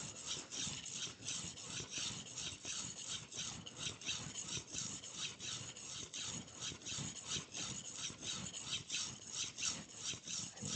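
A blade drawn steadily back and forth across a sharpening stone, raising a burr: a continuous close rasping scrape with quick rhythmic strokes and no pauses.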